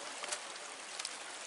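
River water rushes downstream through a vegetated gorge with high rock walls near a waterfall, a steady broad hiss of flowing water with small splashy surges, moderately loud and without talk.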